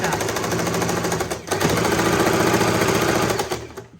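Sewing machine stitching churidar fabric, a loud rapid mechanical chatter of needle strokes running continuously, with a brief pause midway and tapering off at the end.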